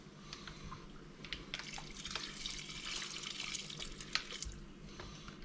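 Tap water runs into a pasta pot in a home kitchen, a faint, steady splashing and trickling with scattered drips.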